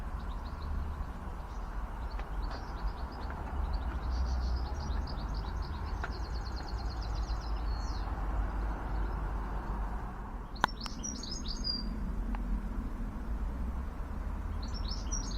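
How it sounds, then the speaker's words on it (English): Goldfinches sing in a garden: a series of light, twittering chirps and trills at moderate distance, bunched in the first half and returning toward the end, with a brief sharp knock partway through over steady outdoor background noise. "I get these goldfinches in the garden every day."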